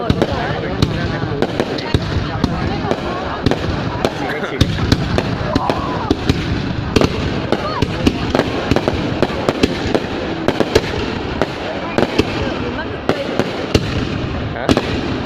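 New Year fireworks crackle and pop in sharp, irregular bursts, loud and continuous, while people talk in the background.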